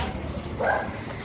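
A dog tied on a short leash barks once in a Filipino neighborhood in Angeles City, a short, fairly close bark over street background noise.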